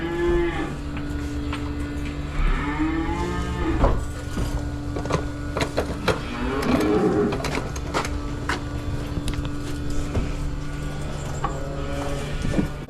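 Dairy cows moo repeatedly inside a barn on a small Maine farm, with several drawn-out low calls overlapping a steady background hum and occasional clatter, nearby and fairly loud, with no talking.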